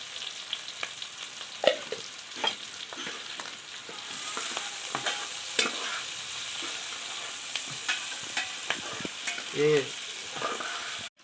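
Cumin, onion and chili fry in a pan for a fish and bottle gourd dish, a steady soft sizzle broken by scattered clinks and scrapes of a spoon stirring, close by with no talk.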